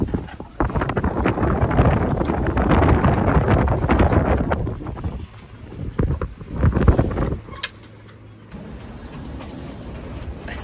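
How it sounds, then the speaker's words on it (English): Strong wind buffets the microphone aboard a sailboat lying at anchor, a loud, steady roaring rumble with gusty surges that eases briefly near the end before building again. "There's so much wind."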